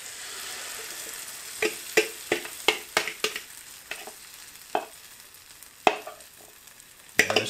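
Omelet cooking slowly on a stainless frying pan over a butane stove, a faint low sizzle under a run of sharp spatula taps and scrapes, close by, no talking.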